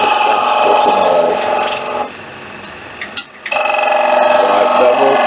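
Woodturning tool riding the bevel on spinning wood, a loud continuous rasping cut that drops away briefly in the middle with a small click, then resumes strongly.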